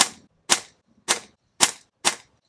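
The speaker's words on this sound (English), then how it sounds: "We'll shoot at the top of the target." A Benjamin pRod PCP air pistol fires five sharp, loud shots at a steady pace of about one every half second, each a crisp crack with a short decay and quiet gaps between.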